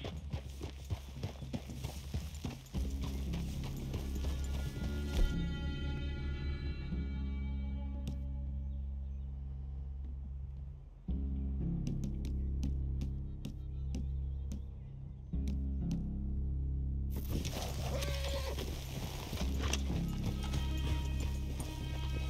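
Horses clip-clop steadily across ground in Red Dead Redemption 2, with an occasional whinny and neigh, close and fairly loud over a low ambient music bed that drops out briefly midway.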